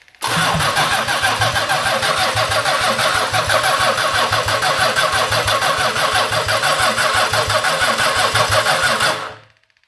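A 1982 Oldsmobile 4.3 V6 diesel engine, long left sitting, cranks in a fast rhythmic churn, then catches and runs loudly and steadily, rough and close, before cutting off at the end.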